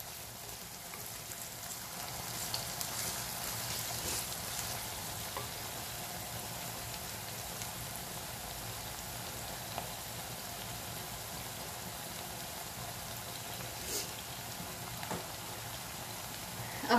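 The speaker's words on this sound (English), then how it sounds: "mixing the onions when you frying them in the oil" Onions frying in oil for a whole-spices chicken curry, a steady close sizzle and crackle running throughout with occasional stirring clatter, no talking.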